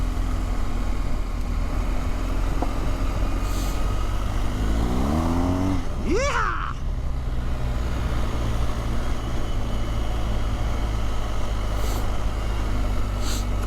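BMW R1250GSA motorcycle engine droning steadily on a fall trail ride, then a sharp rising rev and pitch sweep as the rear wheel spins in Enduro mode, settling back to a constant engine rumble under wind noise.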